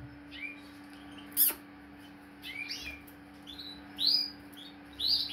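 A canary chirps in short bright notes and trills, several separate calls spaced a second or so apart, close but soft over a faint steady hum.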